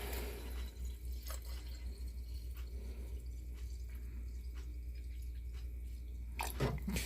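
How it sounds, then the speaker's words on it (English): Water pours and trickles into a snow globe, a low steady running sound with a few soft drips and splashes, ending in a louder gurgling burst near the end. "some water in."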